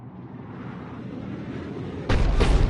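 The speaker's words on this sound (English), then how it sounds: "looks like Cerberus got that cannon operational" Cannon firing in the video game Mass Effect 3: a rising roar of rumbling noise that ends in a sudden loud, broadband blast.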